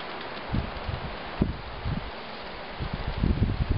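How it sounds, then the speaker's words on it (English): Strong wind buffeting the microphone outdoors, a steady rushing noise with irregular low gusts and rustling throughout. "the wind is so strong today"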